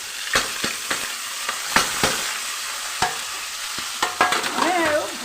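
Fish curry fries in a pan with panch phoron spices, a steady sizzle broken by scraping stirs and clinks of a spatula, close and loud with no talking.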